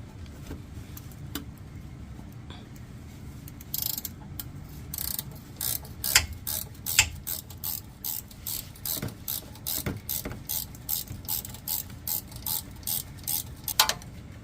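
A 12 extended flex head ratchet works on a car's AC compressor, its pawl clicking in quick bursts of sharp ticks that speed up and repeat steadily toward the end, close and clear with no talk.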